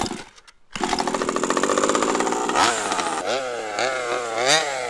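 A gas-powered HPI Baja 5B RC car engine pull-starts with a brief silence, then catches into a loud, close buzzing two-stroke idle that rises and falls through several sharp revs.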